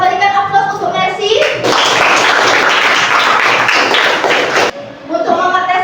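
A class applauds a student, with a few seconds of dense, loud, close clapping from many hands, and a voice speaking just before and after.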